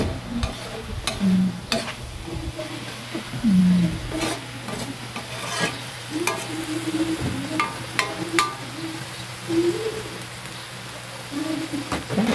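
Sinarapan (tabyos) fish sauté in a pan, a soft continuous sizzle under repeated scraping and stirring strokes of a utensil, close and moderately quiet, with no talking.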